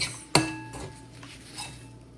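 Utensil clinks against a bowl as boiled vada pav potato filling is mixed with salt and lemon juice, one sharp clink followed by softer scraping taps, close and quiet with no talking.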